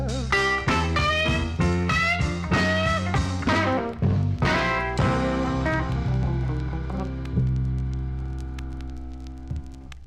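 A 1961 blues single on Federal, played from a vinyl 45: a loud band with guitar chords and strong rhythm drives steadily, then settles into a sustained, fading chord toward the end, with no talking.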